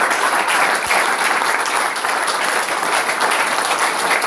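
Sustained, dense applause from a church congregation at a Cameroonian or Gabonese prophetic service, loud and steady throughout with no gaps, forming a continuous wash of many hands clapping.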